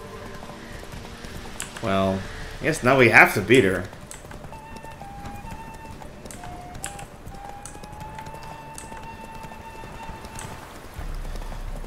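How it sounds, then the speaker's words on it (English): Hooves gallop in quick clip-clop rhythm during a horse race in a video game, a voice speaking briefly over the pounding before it settles into a faint steady patter under background music. "So these horse races are usually pretty easy."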